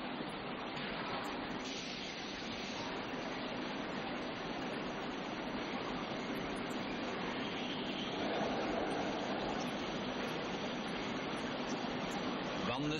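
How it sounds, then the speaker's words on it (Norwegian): Water streams down onto the rolls of a steel rolling mill at Norsk Jernverk in Mo i Rana in 1947 to keep them cool, a dense, even rushing hiss that runs unbroken, heard beneath someone narrating. "Vannet strømmer ned for å hindre valsene i å bli for varme."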